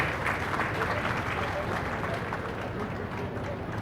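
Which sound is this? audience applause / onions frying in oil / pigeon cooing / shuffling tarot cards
audience applause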